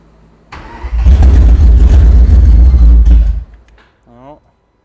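A SuperCar V12 engine swapped into a Mustang cranks briefly, fires up and roars at a loud, steady high idle for about two seconds, then cuts off; a short voice follows at the end.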